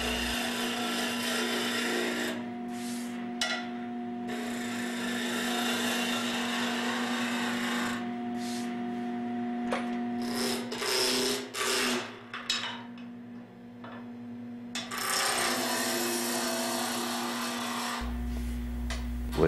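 A woodturning gouge cuts a rough, partly square wooden cylinder on a lathe, giving a steady close rasping and scraping over a constant motor hum, with brief breaks and uneven bursts as the tool lifts and bites again.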